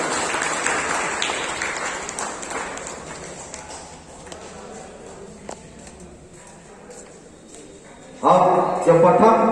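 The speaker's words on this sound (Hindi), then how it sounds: "बच्चों तालियां बजती रहनी चाहिए" Children applaud at a school prize distribution, a dense burst of clapping that fades over several seconds, then a fresh loud round of clapping near the end, with speech mixed in.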